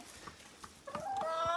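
Chickens in a cold winter coop cluck in soft, scattered calls, then one bird lets out a rising, drawn-out squawk that swells louder toward the end.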